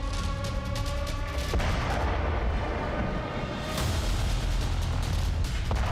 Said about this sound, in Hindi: कीव के कुछ इलाकों में धमाके भी हुए